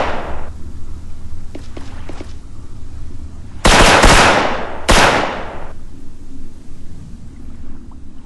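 M4 rifle fire in a video game, aimed at pillars inside an office: two loud, sharp shots about a second apart, each with a ringing, decaying tail over a steady low background hum, with no talking.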